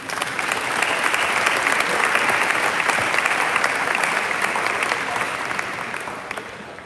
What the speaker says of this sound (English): So please give a round of applause for him.